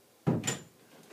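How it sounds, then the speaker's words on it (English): An indoor door is pushed shut with one sharp, close thud and a short rattle that fades within a second; no talking. "I had to shut the door so the dog wouldn't come in here"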